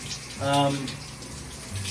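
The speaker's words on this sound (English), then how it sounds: "having a nice shower" A shower runs steadily at close range as a broad hiss of falling water, with a brief tonal voice-like sound rising over it early on.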